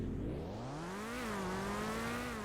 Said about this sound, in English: Oh, that engine sounds great.